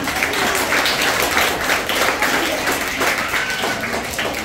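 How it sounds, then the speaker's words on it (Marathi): Loud, dense applause from a large group at a school's annual prize-giving ceremony, continuous clapping throughout with no pause. "सगळ्यांनी जोरदार टाळ्या वाजवा जरा"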